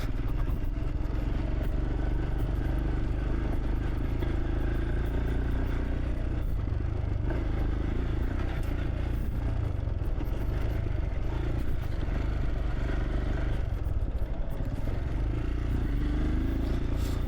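A Royal Enfield Scram 440 motorcycle rides over a rough off-road dirt track, with a steady engine drone mixed with continuous rattling and clattering from the bumpy surface. No voices are heard.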